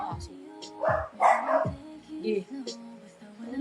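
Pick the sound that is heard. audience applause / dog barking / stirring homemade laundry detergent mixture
dog barking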